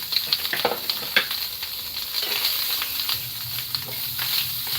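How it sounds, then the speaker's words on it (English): Fresh herbs sizzle and crackle in a hot frying pan, a steady close-up frying hiss with scattered pops and no talking. "Sizzle, sizzling."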